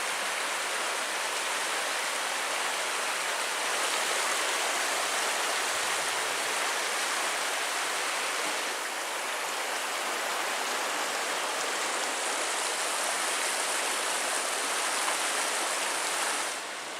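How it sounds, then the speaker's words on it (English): The Big Carp River rushes under a wooden log bridge in the Porcupine Mountains, a steady full-band wash of flowing water that runs evenly throughout with no voices. "And that's the Big Carp River."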